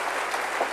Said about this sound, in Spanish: Dale ese aplauso al Rey bendito.